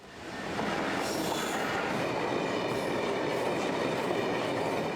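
Class 66 locomotive 66741 hauling a rake of empty alumina tank wagons southbound, a steady loud rumble of wagons rolling past with faint wheel squeal, no talk.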